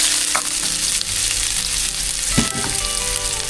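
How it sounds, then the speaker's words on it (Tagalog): Garlic, onion and ginger sauté in a hot pan with a dense, steady sizzle, punctuated by a few sharp crackles and spatters. "Lagyan na po natin yung ating bawang sibuyas tsaka luya. Gisa na natin."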